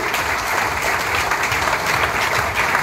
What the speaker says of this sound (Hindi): ताली का बजाय यार जोर से